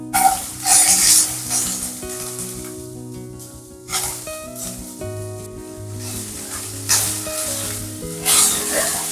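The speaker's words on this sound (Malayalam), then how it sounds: "അപ്പൊ ഇതിൽ തന്നെ നമുക്ക് ഇഞ്ചി വെളുത്തുള്ളി ഐറ്റംസ് പച്ചമുളകും കൂടെ ചതച്ചത് ഒന്ന് വഴറ്റിയെടുക്കാം" Crushed ginger, garlic and green chilli sauté in hot oil, giving a loud, steady sizzle with surges as the pan is stirred, over a layer of background music.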